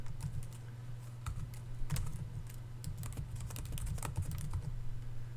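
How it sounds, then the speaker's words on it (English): Typing on a computer keyboard while entering activity names into process-flow shapes in Visio; a steady run of quick, close key clicks with brief pauses over about five seconds, no voices. "you can simply select an object and then begin typing"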